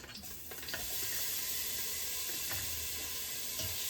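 Crushed spice mix drops into a hot pan and sets off a loud, steady sizzle that swells after a short quiet start and keeps hissing without a break, with a few faint clinks of utensils.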